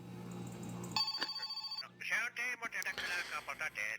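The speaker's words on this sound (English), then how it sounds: "Ooh, phone call." A telephone rings in the video game My Summer Car, starting with a soft hum, then a bright electronic ring that repeats in rapid pulses, quite faint and mixed with other game sounds.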